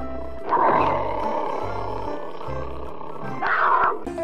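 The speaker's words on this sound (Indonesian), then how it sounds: "Ada dua ekor harimau." Two tigers roar in the video game Jurassic World Evolution 2, two loud, drawn-out roars about three seconds apart over a low rumbling game ambience.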